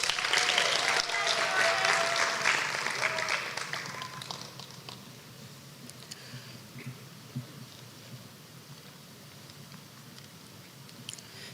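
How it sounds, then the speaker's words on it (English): An audience at an honors convocation applauds the awardees, a full burst of clapping that fades after about four seconds into quiet room noise with a few scattered claps. "Audience, please join me in giving all of our awardees a round of applause."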